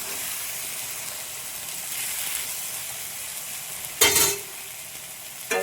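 Kari dosa, a meat-topped dosa, sizzles on the pan after flipping: a steady close frying hiss with a sharp louder crackling surge partway through and another brief flare at the end, with no talking.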